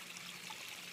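Steady, soft trickling and splashing of water from a small backyard pond waterfall, continuous and fairly faint, with no voices.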